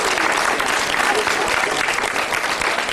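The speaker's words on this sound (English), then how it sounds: "Big round of applause for Steve." An audience at a classic gaming expo auction claps loudly and steadily throughout, a dense wash of applause with no break.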